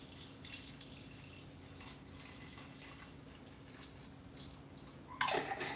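Five-spice salty boiled peanut broth poured into a vessel, a soft continuous trickle and drip of liquid with faint background hiss, ending in a brief louder splash near the close.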